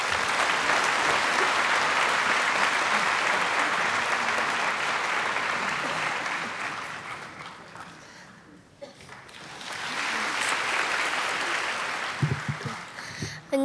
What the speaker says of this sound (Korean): 나오실 때 우레와 같은 박수로 이 어린이를 환영해 주시기 바랍니다.